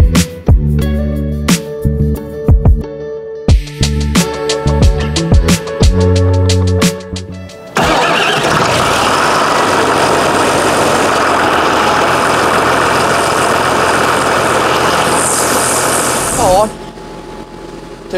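Forwarder engine cranks with a few short bursts of clatter, then catches and settles into a loud, steady diesel idle that runs for about ten seconds before cutting off.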